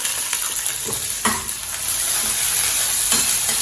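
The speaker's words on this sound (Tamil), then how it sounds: "இது கொஞ்சம் எண்ணெயில் வதக்கிடுறேன் நான் எதையும் வதக்கக்கூடாது பச்சை மிளகா மட்டும்" Green chillies fry in a little oil, a steady close sizzle broken by a few sharp stirring knocks and scrapes in the pan.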